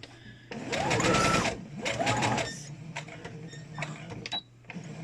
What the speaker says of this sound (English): So back stitch a couple of times.